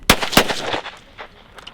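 A .410 shotgun fires a reload from a W296 hull with low pressure, a single sharp blast followed by quick echoing reports that fade over a second and a half, heard outdoors.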